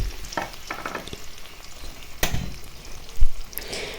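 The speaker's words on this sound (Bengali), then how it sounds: "তো পেঁয়াজ বেরেস্তা হয়ে গেছে, এখন আলুটা ভেজে নিব।" Potatoes and onions fry in a pan, the onions already browned, giving a steady crackling sizzle with a few louder stirring clatters and scrapes.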